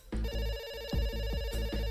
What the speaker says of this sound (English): the phone on the lieutenant's desk rang